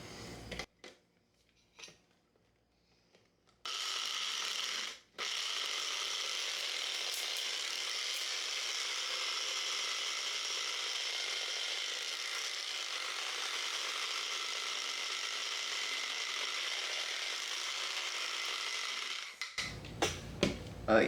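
Dried basil being ground in a small electric grinder, a steady whirring buzz that runs for about fifteen seconds after a few handling noises, then stops with clattering.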